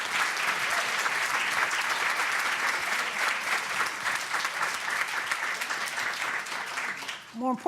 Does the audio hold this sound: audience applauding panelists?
yes